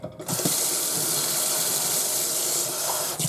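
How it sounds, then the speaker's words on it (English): Water pours steadily into a cocoa drink as a continuous close hiss, starting abruptly and running for about three seconds with no talk. "you can actually add some more water in"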